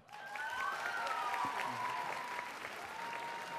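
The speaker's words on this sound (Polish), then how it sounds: "Brawa!" Full, sustained applause from a gathered audience at a talk on engagement, with whoops and cheering tones riding over the clapping throughout.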